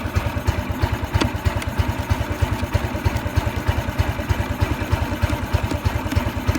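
A Honda 110i motorcycle engine idles steadily nearby with a fast, even putter that holds its rhythm throughout, with no one talking.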